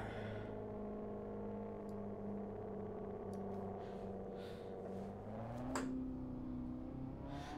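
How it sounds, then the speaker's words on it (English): A racing video game car engine hums at a steady pitch with a rising whine near the end, continuous and moderately quiet throughout. "The car sound is too quiet."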